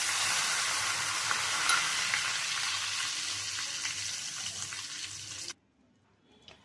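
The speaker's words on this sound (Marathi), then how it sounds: "सर्वप्रथम मोहरी चांगली तडतडली की त्याच्यात जिरं टाकावं, थोडंसं हिंग आणि बारीक केलेला कढीपत्ता।" Mustard seeds, cumin, asafoetida and curry leaves sizzle loudly in hot oil for a tempering, a close, dense crackling hiss that cuts off abruptly near the end.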